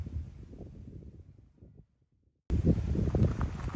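Wind rumbles against the microphone in uneven gusts, drops to near silence for a moment, then returns louder and steadier.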